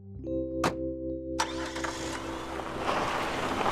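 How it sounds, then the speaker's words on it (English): A car engine cranks and catches, then settles into a running rumble that builds as the vehicle pulls away, loud and close, with no voices. "The car was loaded, and off they drove"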